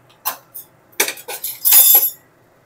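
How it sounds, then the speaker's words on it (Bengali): Hot water sloshes as it rinses a mixing jar and is poured into okra curry. Short splashing bursts come up close and loud, separated by brief pauses, with a longer pour near the end and no talking. "মিক্সিং জারটা ধুয়ে নেব, ধুয়ে নিয়ে ওই জলটাই দিয়ে দেব।"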